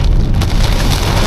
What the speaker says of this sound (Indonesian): Badai.